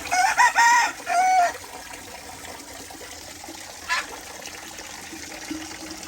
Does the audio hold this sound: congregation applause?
no